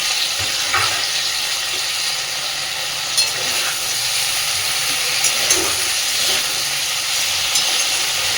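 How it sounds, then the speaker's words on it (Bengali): Potato and cauliflower pieces frying in oil in a covered pan, a steady hissing sizzle with soft crackles and a few faint clinks, close and fairly loud, with no voices. "আমি ঢাকা দিয়ে অনেকক্ষণ করে আলু আর কপিটাকে দেখুন সুন্দর করে ভেজে নিয়েছি।"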